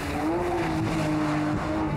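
A Porsche 911 GT3 RS at speed on a race track, its engine note climbing and shifting through gears with tire squeal, loud and close, with no talking.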